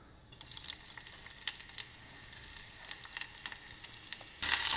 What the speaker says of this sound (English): So once the oil comes to temp, that's when you can add the onions first.